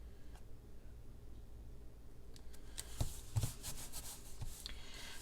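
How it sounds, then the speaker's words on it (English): Paper being rubbed down flat during a Stampin' Up! card-making project, a soft dry scuffing with a few light taps, faint and close with no talking. "I rub that down a little bit to get it to lay down"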